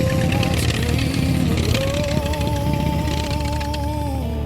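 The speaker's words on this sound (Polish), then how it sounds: "słysząc, jak motocykl chodzi na światłach, jestem praktycznie pewien, że jeszcze coś tam nie domaga" A motorcycle engine idling at traffic lights, loud and close, with a steady low rumble and a wavering tonal whine that shifts pitch partway through, no talking.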